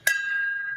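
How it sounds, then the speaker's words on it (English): A single bell struck once in memory of Bexar County children, a sharp onset followed by a long, clear ringing tone that sustains evenly without fading, close and alone. "we will ring the bell to honor the children of Bexar County who have passed."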